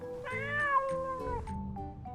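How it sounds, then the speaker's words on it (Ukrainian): A cat's single drawn-out meow, loud and close with a rising then falling pitch, used as a sound effect in a Ukrainian audio fairy tale, with no talk around it. "Побачив це кіт Васько, що сидів на лавці"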